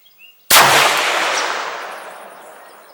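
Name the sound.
6.5 Grendel rifle shots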